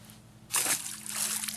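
A released fish hits the water with a short splash and slosh close by, followed by brief trickling, outdoors on a fishing outing.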